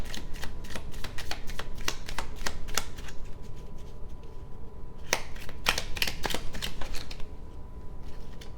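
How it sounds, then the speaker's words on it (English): Oracle cards from a Flames of Healing deck being shuffled by hand: bursts of rapid crisp riffling flicks, a pause, then another riffle, close and clear with no talking. "One more shuffle."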